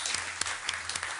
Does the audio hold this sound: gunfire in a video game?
no